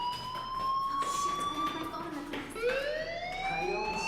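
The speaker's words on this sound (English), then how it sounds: "do you hear that fire alarm? That means you should be outside." In the video game Life Is Strange, a fire alarm rings as a wavering electronic siren tone rising and falling, heard under a person talking.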